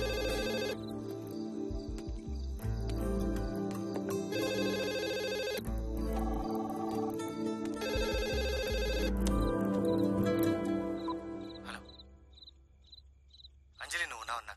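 A landline telephone rings repeatedly in bright electronic bursts in a comedy film scene, with busy sounds underneath, before the ringing fades out near the end.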